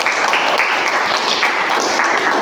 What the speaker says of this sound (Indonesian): tepuk tangan buat David dan Ara.